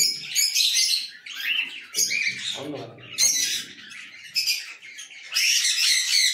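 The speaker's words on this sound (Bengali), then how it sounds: "এই পুরো ফল এগুলো সবই লাভবার্ড আছে নাকি?" Lovebirds in a bird loft chirp and squawk in repeated loud bursts, dense high-pitched calls overlapping throughout with brief pauses between flurries.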